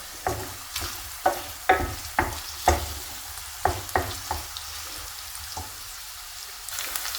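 Bacon and onion fry in a pan with a soft background sizzle, broken by repeated sharp scraping clacks of a spatula stirring, fairly close, and no one talking.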